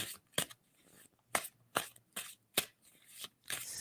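Tarot deck shuffled by hand, close up, giving about eight short papery riffles and slaps in an irregular rhythm with quiet gaps between them.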